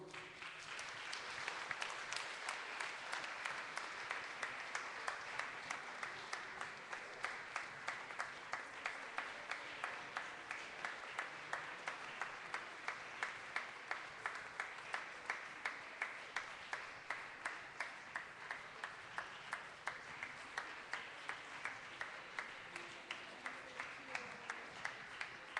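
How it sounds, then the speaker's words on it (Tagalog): A church congregation applauds and cheers to welcome a new member, steady dense clapping that carries on throughout at an even level, with no speech over it. "sa lahat ng pumalakpak at humiyaw"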